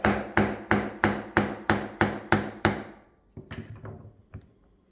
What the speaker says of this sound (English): We're going to use our bolt nut combination again. Just going to drive it.